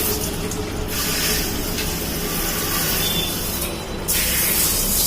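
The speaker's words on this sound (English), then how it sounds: "Water is coming forcefully." Water gushing forcefully into a toilet flush tank after the angle valve is opened, a loud continuous rushing spray with a faint mechanical rattle, steady throughout and growing louder near the end.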